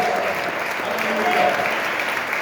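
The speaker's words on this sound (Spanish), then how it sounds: "Un fuerte aplauso para Jesucristo." Applause from a church congregation at a sermon in a convention centre, a steady dense wash of clapping that carries on throughout, with faint voices mixed in.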